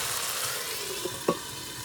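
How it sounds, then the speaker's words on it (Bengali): Spice paste fries in oil in a covered pan for a Bengali egg dish. A soft, even sizzle holds steady, broken by a small clack and a brief sputter. "আর মশলাটা কতক্ষণ ভাজবো যতক্ষণ মশলার কাঁচা গন্ধটা না চলে যায় আর যতক্ষণ না তেল ছেড়ে যায়।"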